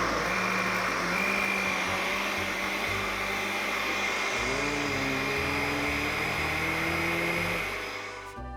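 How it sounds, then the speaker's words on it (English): A loud blender motor runs steadily for several seconds, blending ratatouille sauce, its pitch shifting midway as the contents churn, then winds down at the end. "We need whisk the sauce in a blender"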